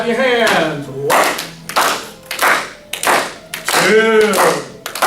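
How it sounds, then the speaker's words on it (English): A group in a chair tai chi class claps hands in a steady rhythm of sharp, close claps, while an instructor talks over them. "Clap your hands."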